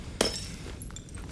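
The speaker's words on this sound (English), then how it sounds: "Oh, of course, the light bulb smashed." A light bulb smashes in the video game Silent Hill 2, inside the Blue Creek Apartments: one sharp, loud glass break with a short bright tinkle, followed by faint scattered debris clinks in a quiet room.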